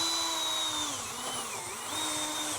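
A power drill bores a hole in wood with a steady high-pitched whine, its pitch sagging under load mid-way and then recovering, loud and close with no talking.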